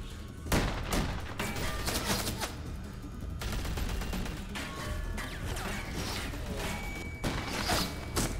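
Sustained video game gunfire from The Walking Dead: A New Frontier, a dense fusillade of overlapping shots and crashing impacts that stays loud and continuous throughout.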